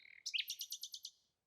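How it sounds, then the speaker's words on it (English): A synthetic bird chirp effect for a video game sounds as one clean, high trill of about eight rapid, evenly spaced tweets after a short lead-in call, then fades quickly into silence. "I've got my own custom attenuation for the bird chirp."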